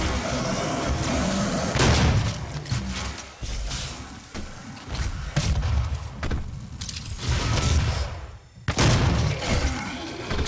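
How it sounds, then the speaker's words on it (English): A Gauss cannon fired in DOOM 2016 delivers heavy, booming shots and thuds amid loud, dense combat noise, with a brief lull before the firing resumes. "Oh yeah, I forgot you gotta let the sniper mode charge for the Gauss cannon."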